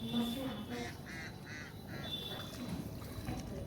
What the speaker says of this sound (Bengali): পানিতে অনেক হাঁস